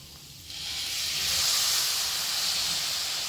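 Water hits a hot pan of onion zunka and erupts into a loud, rising steamy hiss that holds steady, a close sizzle with no speech.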